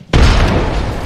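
A frag grenade in the Apex Legends video game goes off as a single loud, sudden boom that rolls into a long, dense rumble of debris and echo, with no talk over it.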